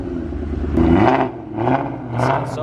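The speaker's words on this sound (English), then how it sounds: "In person, guys, this car sounds way better." A Shelby Terminator Cobra runs close by, its engine rumbling at idle and then revving in three rising surges that fall back between each.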